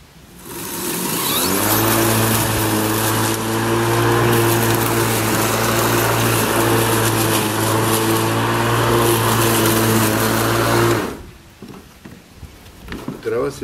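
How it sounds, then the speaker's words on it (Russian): An Einhell GE-CM 36 Li cordless lawn mower cutting grass, its steady electric motor whine starting up, running evenly and loud for about nine seconds, then cutting off into faint handling noises. "Сейчас мы просто вот косим."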